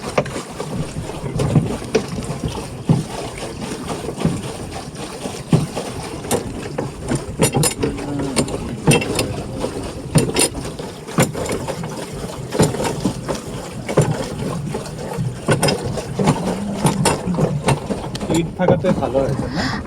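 A pedal boat moves across the Kanva Dam backwaters, with steady broadband water and wind noise filling the whole stretch and faint voices mixed in.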